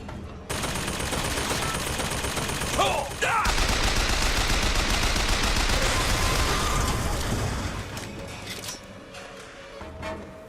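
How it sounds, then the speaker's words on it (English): Sustained machine gun fire in the video game Bioshock Infinite, a loud dense stream of automatic shots that runs for several seconds before tapering into scattered bursts and quieter game noise. "There's a machine gun shooting at you."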